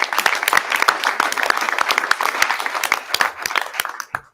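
Audience applause for youth sports coaches at an evening school board meeting, dense steady clapping from a seated crowd that tapers off and stops near the end.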